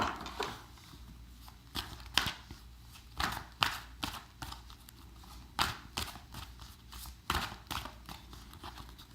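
Tarot cards being shuffled by hand, a run of crisp riffling slaps and soft shuffles that repeat at an uneven rhythm, close and fairly quiet, with no voice over them.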